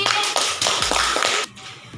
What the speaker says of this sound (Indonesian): tepuk tangan untuk Pino dan Gavin